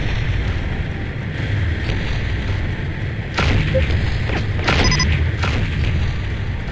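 Mortar rounds explode in the Battlezone Combat Commander video game, several heavy booms landing over a constant low rumble of battle noise, with a couple of sharper bursts near the middle.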